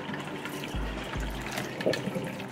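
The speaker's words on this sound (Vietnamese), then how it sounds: "mình rửa lại sạch một phần lần nữa với nước" Tap water runs steadily over abalone being rinsed clean at a kitchen sink, a close, continuous splash and trickle with a couple of brief low thumps partway through.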